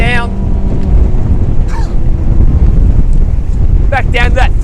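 A 2021 Quintrex 481 Hornet Pro outboard boat eases back to about 3,800 RPM on a choppy bay, its engine drone half buried under heavy wind buffeting the microphone, with someone speaking over it.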